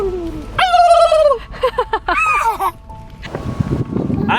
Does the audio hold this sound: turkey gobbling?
yes